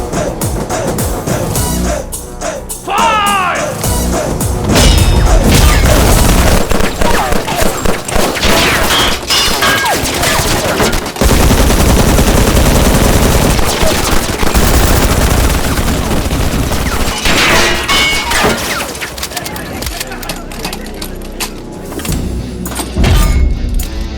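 Film gunfire from the Indian action movie Bhagavanth Kesari: loud, sustained machine-gun bursts and fusillades with rapid repeated cracks and some clattering debris, filling nearly the whole stretch.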